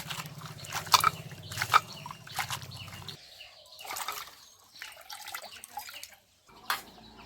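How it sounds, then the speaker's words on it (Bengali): Chopped bottle gourd leaves being washed in water, with splashing, dripping and sloshing in bursts, louder through the first half and then sparser, close by with no talking. "শাকটা আমার কাটা হয়ে গেছে, এখন ধুয়ে নিচ্ছি।"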